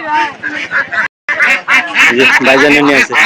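Ducks quack repeatedly amid busy chatter at a traditional duck and chicken market in Nalitabari, with people bargaining loudly close by.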